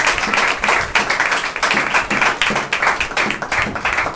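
A church congregation at a Sunday service claps loudly for the preacher, a dense burst of close, steady applause with no talk over it.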